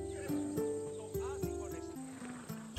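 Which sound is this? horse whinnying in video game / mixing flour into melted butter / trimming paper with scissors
horse whinnying in video game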